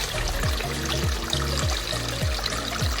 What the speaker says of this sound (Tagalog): So ganyan kaganda yung flow ng tubig dito sa may pinakaloob.